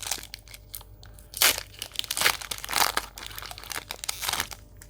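A Pokémon booster pack from the Lost Origin set with Giratina artwork is torn open, giving several loud foil crinkles and tearing bursts amid lighter rustling and handling, close up.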